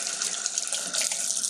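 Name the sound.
rinsing resin bonded stone under tap water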